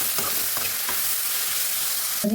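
Onions with salt, garlic and cumin fry in a pan, giving a steady close sizzle broken by a few scraping stirs and a louder clatter near the end.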